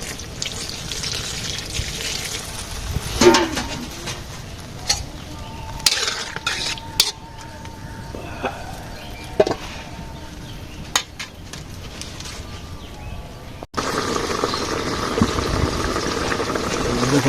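Fish and potato curry simmering in a pot with a little water in a village kitchen, with a steady bubbling hiss, occasional utensil clinks and a louder, denser boil near the end as talk runs over it.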